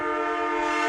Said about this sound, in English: It almost sounds like a train, but it's not.